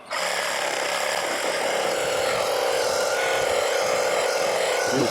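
A LEADER reciprocating saw cuts through wood with a loud, harsh, continuous buzzing roar that runs unbroken for about five seconds right up close, with no talking.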